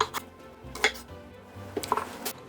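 A knife cuts cleaned potatoes into halves on a board, giving a few soft, close chopping taps in a quiet kitchen.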